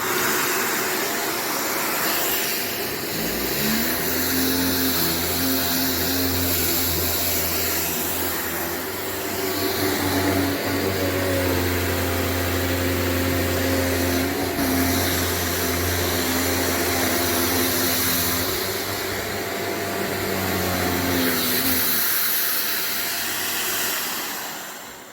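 A Shark corded upright vacuum cleaner on carpet at power setting 2 starts up and runs with a loud, steady motor drone and whine for about twenty seconds, then winds down near the end.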